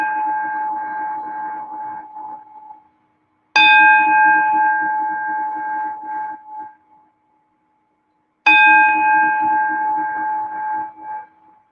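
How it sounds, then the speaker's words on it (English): A gong is struck three times in a quiet meditation setting, each strike a clear ringing tone that swells and slowly fades over several seconds before the next, with silence between and no voices. "I ring the gong"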